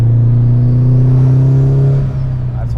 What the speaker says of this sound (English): I will never get over how good the turbo sounds in this car